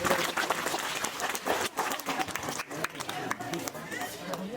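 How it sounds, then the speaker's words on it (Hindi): A crowd applauds with dense, continuous clapping, fairly distant, mixed with some chatter, at a village government primary school event in Barmer. "उनके लिए भी जोरदार तालियां बजा करके स्वागत करें"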